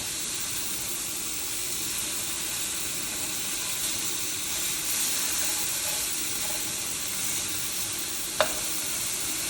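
Meat sizzles steadily in a hot stainless steel pan, a constant crackling hiss with one sharp clink near the end.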